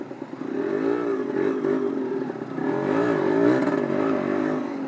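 A Yamaha DT 125 two-stroke motorcycle ridden through town, its engine buzzing close and loud with wavering revs that rise and fall over rattling mechanical clatter.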